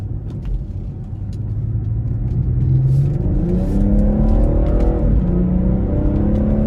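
A 2018 BMW 440i Gran Coupe with 320 hp accelerating hard in sport plus mode using paddle shifters, its engine note climbing loudly through several gears with quick shift dips, heard from inside the car without talk.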